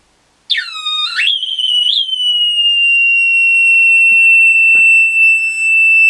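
A steady high-pitched electronic tone of about 2.9 kHz from a TL071 FET op-amp oscillator circuit. It starts with a brief wavering sweep, then settles into a loud, unbroken whine that continues alone.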